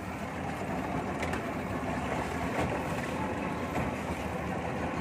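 Speedboat with a 60 HP engine racing on open water, a loud, steady roar of engine and rushing water and wind throughout, with no break or change in pace.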